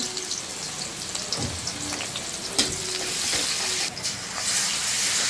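Chopped onion frying in hot oil in a wok makes a continuous close sizzle with a few stirring scrapes and clicks, no voices.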